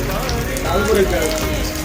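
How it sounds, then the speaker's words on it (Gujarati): Heavy monsoon rain falls steadily on surfaces in a Gujarat village, a dense even patter throughout the short stretch. "આજે આ થારા ગામે આ જે વરસાદ ચાલુ છે"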